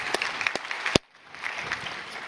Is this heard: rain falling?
no